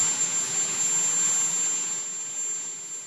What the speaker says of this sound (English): Can helicopters be more unpleasantly loud?